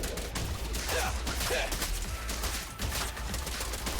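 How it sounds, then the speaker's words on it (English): Gunfire in the video game Zenless Zone Zero, a dense, steady stream of rapid shots and impacts that continues throughout at an even level with no pauses, played over game effects. "Just gonna keep shooting."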